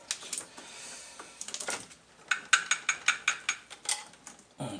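A small ratchet clicks through about ten quick, evenly spaced turns close by during a coolant temperature sensor replacement on a 2006 Dodge Caravan, following some softer handling noises.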